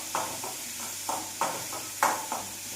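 Sliced onions sautéing in a pan for egg curry, with steady sizzling and periodic scraping stirs of a spatula, each stroke giving a short rasp over the constant frying hiss; no talking.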